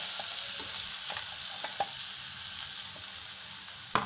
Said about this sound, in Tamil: இப்போ இந்த அரைச்ச பொடியை வந்து இதில் போட்டுக்கணும்.